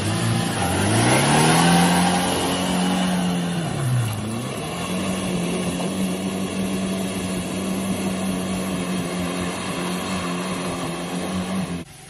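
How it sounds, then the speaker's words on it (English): An old two-wheel-drive Toyota Tacoma pickup revs hard and drives, its engine note climbing, dipping around four seconds, then holding a steady loud drone until the end, with no talk. "This old Toyoter Tacomer here can make it through more stuff in two-wheel drive than y'all's trucks can"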